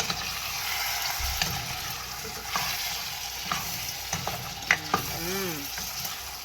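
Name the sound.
stirring frying okra and callaloo in a pan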